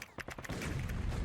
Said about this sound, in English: Explosions roar all around. Each whistling bullet makes you flinch.